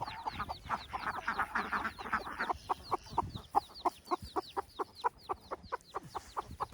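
Chickens cluck in a farm field in northern Laos, where ducks also roam. The clucks come in a busy burst that settles into a steady, evenly spaced series of calls at moderate distance, with no talking.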